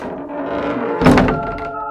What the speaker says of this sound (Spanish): Se ve como la puerta del departamento número 72 se abría lentamente.